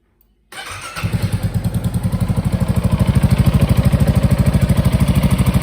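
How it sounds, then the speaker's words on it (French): Motorcycle engine being started during maintenance while the oil level is checked, catching after a brief crank and settling into a loud, steady, rapid idle thump close by, with no talk. "On va démarrer pour faire tourner un peu le moteur comme ça et régler le niveau."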